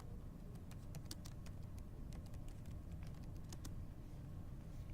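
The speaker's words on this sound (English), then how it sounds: "I'm just randomly typing in numbers" Someone types numbers on a computer keyboard, producing faint, irregular key clicks over a quiet, low room hum.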